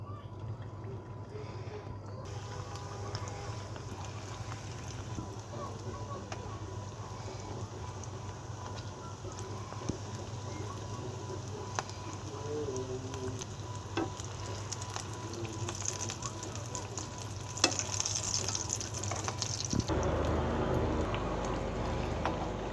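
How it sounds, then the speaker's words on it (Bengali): Chicken patties frying in hot oil, giving a steady, continuous sizzle at moderate loudness that holds throughout, with a low background hum and a brief shift in tone near the end. "প্যাটিসগুলো এখন আমি ভেজে নিব।"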